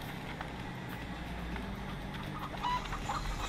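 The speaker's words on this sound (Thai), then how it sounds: "ไก่โดนเชือด" Chickens cluck inside a slaughter factory in the video game Endling: Extinction is Forever, their calls steady and buried in a dense wash of machinery noise with no voices.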